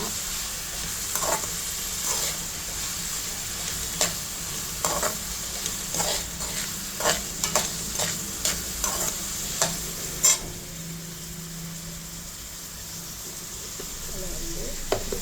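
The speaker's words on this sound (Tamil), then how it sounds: "நல்லா ஃப்ரை பண்ணுங்க" Food fries in a pan with a steady, close sizzle throughout, punctuated by repeated scraping taps of stirring, while a voice speaks faintly in the background.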